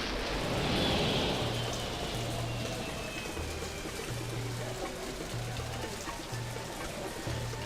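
Steady rain in the video game Blade Runner falls throughout, a dense hiss of drops with a soft low hum underneath and no voices.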